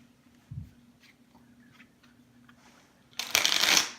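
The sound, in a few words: shuffling a deck of playing cards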